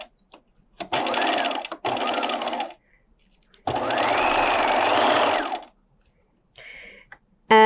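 A home sewing machine runs a straight stitch along the seam of a plaid pencil skirt, sounding in three close, loud bursts of rapid whirring with short pauses between them and a brief click at the end.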